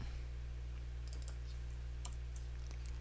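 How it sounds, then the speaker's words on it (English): Keys tapped on a computer keyboard to enter a shortcut while formatting the word Lord: a few faint, scattered clicks over a steady low hum, with no speech. "I can hit my keyboard shortcut"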